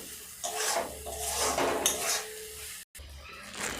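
Ground spices are stir-fried with a little water in a pan for a village-style gima shak and onion dish, giving close, steady scraping and stirring with a soft sizzle.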